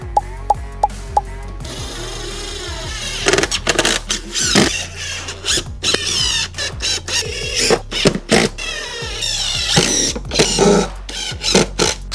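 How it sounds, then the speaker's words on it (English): Power drill driving screws during a woodworking build, several short whirring bursts of varying length separated by brief pauses, close and fairly loud, with a few light knocks at the start. "now we can screw them down"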